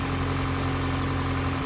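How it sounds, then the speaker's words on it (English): A 2008 Toyota Corolla engine idles while warming up, a steady, close mechanical hum with an even tone and no talk over it. "the engine noise is dying down because it's warming up. It's getting quieter."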